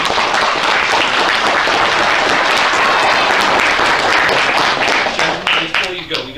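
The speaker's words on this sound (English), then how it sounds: "So let's give them a big round of applause." A comic convention crowd gives loud, sustained applause after a wrestling legends panel, a thick wall of clapping close by that thins out toward the end.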